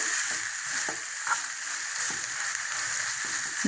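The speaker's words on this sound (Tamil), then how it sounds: "நல்லா அடி பிடிக்காமல் நம்ம கிளறிக்கிட்டே இருக்கணும்." Raw mango chutney powder scraped and stirred steadily in a pan, a dry rhythmic scratching with repeated soft taps over a constant bright hiss, close and fairly loud with no voices.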